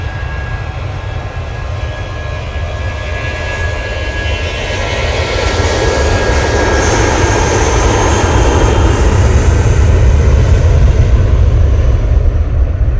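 A British Airways jet roars loudly at Manchester Airport, a broad, heavy rumble that builds steadily over about thirteen seconds with no pauses.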